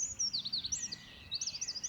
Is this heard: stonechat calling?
yes